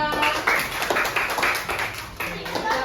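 Schoolchildren in a fifth-grade classroom clap for a group, a scattered burst of claps with uneven rhythm, with a voice talking over it.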